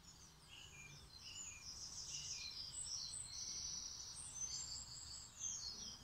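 Small birds sing in high, bright twittering phrases, faint and steady against soft outdoor background noise, with no talking.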